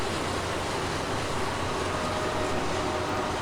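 A steady rumbling roar of a passing freight train of intermodal container and well cars, continuous and loud with a low rolling drone and faint rail clatter throughout.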